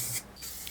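Clear coat spray hisses from a can onto a vintage Ibis Novara Ponderosa bike frame in one short, soft burst, close and quiet, with no voices.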